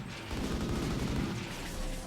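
Gunfire in the video game RimWorld: a steady, muffled burst of rapid shots and rumbling booms, continuous and fairly close, with no clear talk.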